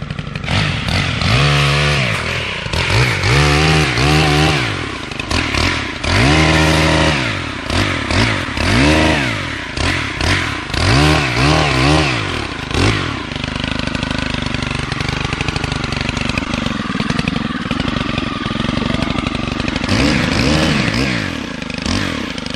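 A Stihl Kombi KM 130 R trimmer cuts tree branches outdoors, its small two-stroke engine repeatedly revving up and dropping back in loud bursts before settling into a steadier whine.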